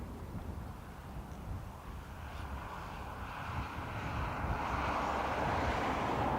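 An airliner takes off from runway 28 right at Dublin Airport, its engine roar building gradually from a distant rumble, mixed with wind buffeting the microphone.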